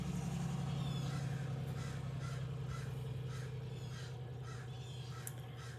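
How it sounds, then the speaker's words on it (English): Crows caw repeatedly in short bursts, moderately distant, over a steady low engine-like rumble. "there's a crow out there"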